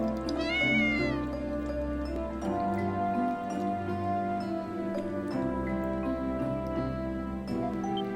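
A huge cat in the video game Ys: Memories of Celceta meows with a rising, wavering cry near the start, over continuous game music and ambience throughout.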